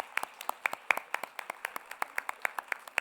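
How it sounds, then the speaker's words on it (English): A small group claps steadily, a brisk string of distinct handclaps at an even pace, fairly close. "we can give him a big clap and say goodbye"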